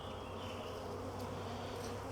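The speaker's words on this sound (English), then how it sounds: "I'm just watching what the bees are doing" Honeybees buzz in a dense, steady drone at an open hive during an inspection, close and continuous with no voices.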